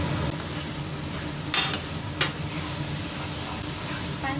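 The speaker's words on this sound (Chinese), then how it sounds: "蒜蓉炒香后倒入辣椒" Minced garlic stir-fries in a hot wok with ginger, a steady close sizzle broken by a couple of sharp scraping stirs of the spatula.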